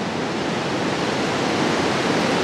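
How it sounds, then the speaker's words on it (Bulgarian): Continuous roar of ocean waves crashing on a shore, a loud, steady wash of surf with no pauses. "Това не са бури, това са просто вълните, които издават този звук."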